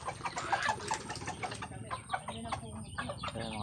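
Texas gamefowl chickens cluck and chatter steadily at close range while being fed, a busy overlapping flock sound with occasional wing flutters, faint and without talk.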